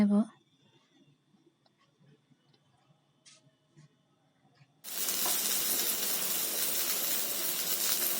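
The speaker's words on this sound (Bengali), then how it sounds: "এখানে পেঁয়াজগুলোকেও দিলাম পেঁয়াজ আর বেগুনগুলোকে ভালো করে ফ্রাই করে" Onions and eggplant fry in oil for a Bengali lote fish curry: a quiet stretch of faint clicks and light talk gives way abruptly to a loud, steady hiss of sizzling that continues to the end.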